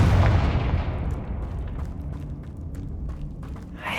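A Confringo fire spell bursts in Hogwarts Legacy with a loud booming blast right at the start, then fades into a long rumbling tail with scattered crackles and clicks.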